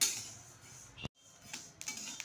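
Sesame seeds dry-roasting in a kadhai over a low gas flame give off faint, scattered ticking crackles and light scraping, with a brief dead pause midway.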